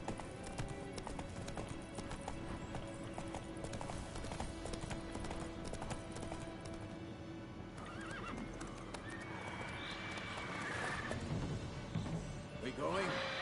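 Horse hooves clip-clopping at a steady gallop in The Witcher 3, with an occasional whinny over game music and ambient noise, continuous throughout.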